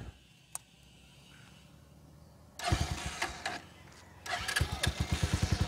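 Motorstar Cafe 150 motorcycle with a loud bullet pipe exhaust, quiet at first, then a sudden loud engine start and rapid revving blips that fade briefly and return as a throaty, pulsing idle and rev close by.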